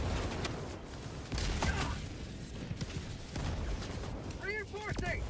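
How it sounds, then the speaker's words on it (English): Enemy artillery fire in Helldivers 2, heavy booms and bursts of gunfire in a dense battle mix, with a game voice calling out a warning and voices talking over it. "Warning, you are in range of enemy artillery."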